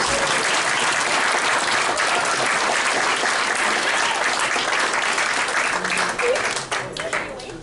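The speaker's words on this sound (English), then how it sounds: "Applause for all the new directors." A room full of people at a tariff talk event applauds warmly and steadily for new directors, the clapping thinning out toward the end.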